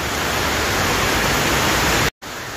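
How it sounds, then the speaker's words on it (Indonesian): Rain falling in Maros, a dense, loud, steady hiss with no break in texture, cut by a brief dropout near the end. "Maros sudah hujan, guys."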